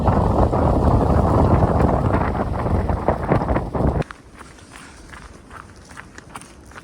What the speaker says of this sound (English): It's protected and faces away from the wind, and nice and sunny. It is gusty.